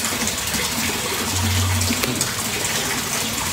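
A pump in a minimalist koi pond lifts water up to a filter tank, producing a steady, loud rushing and splashing flow with a faint low hum underneath, continuous throughout and with no voices.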